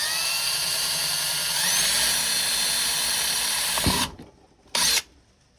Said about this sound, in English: I'm going to drill